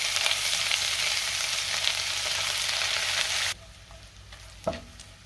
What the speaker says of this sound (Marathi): साधारण 1/2 मिनिट मी परतून घेतलंय आलं लसूण.